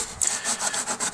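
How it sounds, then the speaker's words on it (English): Green scuff pad scrubbed back and forth on bare metal while cleaning a rear shock mount area on a BMW E36, several quick rhythmic rasping strokes, close and brief. "we're just using one of these green scuff pads to try and clean up the metal here a little bit"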